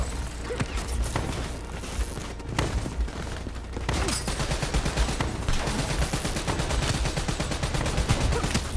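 Sustained gunfire in the game Call of Duty Black Ops 3, dense rapid automatic bursts and heavy shots layered over a loud battle din, close and continuous throughout.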